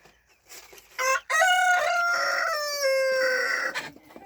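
A rooster crows loudly and close by in one long cock-a-doodle-doo, preceded by a short clucking call from the chickens wandering around a rabbit hutch area.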